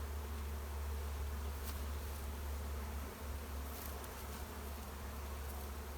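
Honey bees swarm and buzz steadily around an opened hive during spring prep, a dense continuous drone close by with a low hum underneath, no talking.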